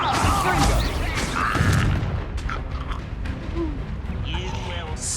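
Confringo fire blasts in Hogwarts Legacy erupt as loud booming impacts amid continuous combat clatter and creaking, dense and close, with a voice shouting spell names over the chaos.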